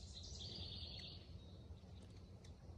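A hummingbird in a summer garden gives a faint, high, thin chirping trill early on, then a few tiny scattered chirps over quiet outdoor ambience.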